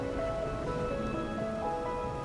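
Steady rain falls in the game Wuthering Waves, a soft continuous patter at a constant level under sustained musical tones, with no talk.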